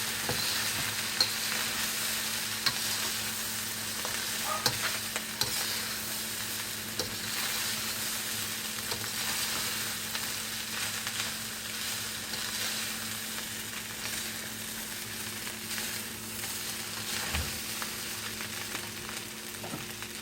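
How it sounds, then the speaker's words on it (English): Yangchow fried rice with meats being stir-fried in a pan, a steady soft sizzle with intermittent scraping and tossing, close and unbroken, no voices. "I'm going to add my meats back in. Get that all mixed up."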